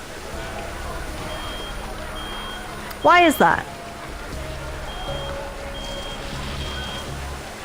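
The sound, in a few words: alarm beeping from a video game, Reverse: 1999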